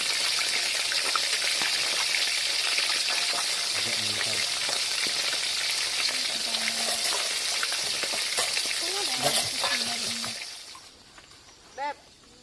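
Fish frying in cooking oil at a rainy campsite, a loud continuous sizzle and crackle that holds steady, then dies away near the end, with voices talking underneath.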